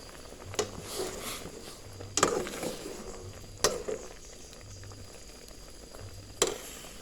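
Fish boiling in a pot of soup gives a soft, steady bubbling under the room noise, broken by a few sharp clinks and clatters in the kitchen.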